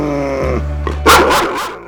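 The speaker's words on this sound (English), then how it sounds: "And yes, watch for the Camino dogs." A dog on the Camino de Santiago, heard after a low engine-like drone fades; it gives a few close, loud barks toward the end, with a short growl or whimper between them.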